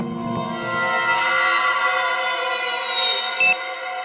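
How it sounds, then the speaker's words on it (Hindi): An alarm clock rings steadily with a bright, electronic tone that holds for about four seconds, fairly loud and close, with a short beep near the end. "कहीं धीमी आवाज में तो नहीं बजा अलार्म?"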